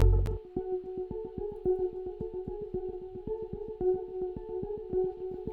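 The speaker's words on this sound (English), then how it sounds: "the sound is basically key block atmospheric keys" Atmospheric synth keys play alone as a steady sustained chord with a dense run of rapid, evenly spaced repeated notes, clean and moderately quiet with a soft echoing tail.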